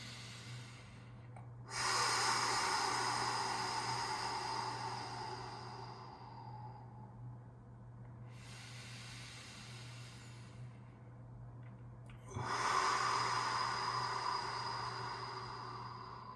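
Deep yoga breaths during a mountain core yoga session: two long, airy inhale-exhale cycles, each starting abruptly and fading slowly, fairly quiet and close, with no talking.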